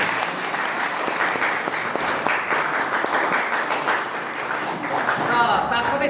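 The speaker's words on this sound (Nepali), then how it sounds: "डाक्टर किङ्सले ब्रुक्सलाई हामी लामो तालीले स्वागत गर्न हार्दिक अनुरोध।" Conference attendees at an astrology gathering give Dr. Kingsley Brooks a long welcoming round of applause, a steady, dense wash of clapping from a large room with faint voices mixed in.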